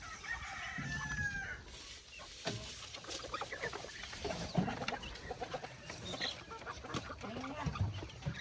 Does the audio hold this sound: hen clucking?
yes